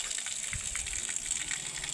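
Spring water gushes steadily from a spout at a roadside water source, a continuous moderate hiss and splash with no talk.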